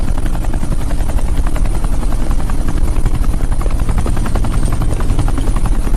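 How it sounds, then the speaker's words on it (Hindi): A helicopter heading to land on an airport tarmac thuds overhead with loud, rapid, steady rotor beats that continue unbroken throughout, with no talking. "ये हेलीकॉप्टर सीधे एयरपोर्ट के टारमैक पे लैंड होगा।"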